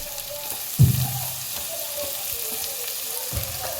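Chopped capsicum sizzling with onions in a pan for pav bhaji, a steady frying hiss with a couple of sharp stirring clanks near the start and end.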